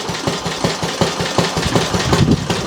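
Briggs & Stratton 5S engine fitted with a water hopper, running slowly with no load, giving a steady loud rhythmic chugging and knocking pulse.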